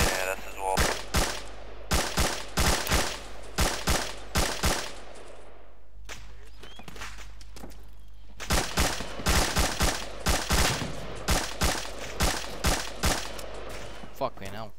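Rapid bursts of video game gunfire from an enemy squad ring out in clusters, sharp repeated shots with a pause in the middle before the firing resumes, steady and fairly close.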